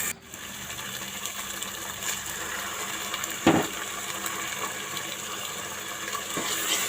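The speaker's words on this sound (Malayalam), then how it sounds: "ഇനി പുളി പിഴിഞ്ഞത് ചേർക്കുക." Squeezed tamarind water poured into a ladies finger (okra) curry in a home kitchen, a steady soft trickling and splashing of liquid with a brief clink partway through.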